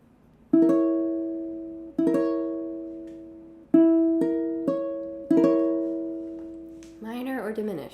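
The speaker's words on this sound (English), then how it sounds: "That is a diminished chord." A diminished chord on piano, heard alone and struck four times with two quicker strikes in the middle, each ringing and decaying, followed by a brief voice at the end.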